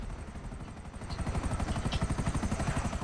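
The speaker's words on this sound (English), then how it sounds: "It's time for a new chopper." Helicopter in the GTA 5 video game, a steady rhythmic rotor chop that swells louder partway through and keeps beating close by, alone without talk.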